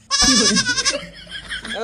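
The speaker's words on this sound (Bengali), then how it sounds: "ওখানে তো দুটোই ছাগল আছে" A goat gives a single loud, close, quavering bleat lasting under a second, followed by quieter trailing sounds.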